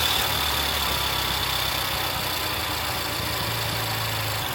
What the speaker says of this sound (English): As you can hear, there's a little bit of a chain noise.